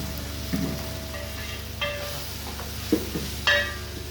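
Koshari meat sautéing in a pan with paprika, cumin and other spices, giving a soft, steady sizzle close by, with a few light clinks from stirring scattered through it.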